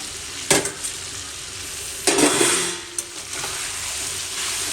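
Pudina chicken curry sizzling in a pan as the lid is lifted, a steady frying hiss with sharp bursts of sizzle and brief clinks of stirring, close and alone.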